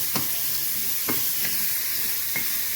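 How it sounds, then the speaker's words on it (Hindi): Mushrooms fry in a pan for an Indian-style Thai curry, giving a steady, close broadband sizzle broken by a few sharp stirring scrapes spaced about a second apart. "मशरूम को इस तरीके से फ्राई करना है, गलना नहीं चाहिए।"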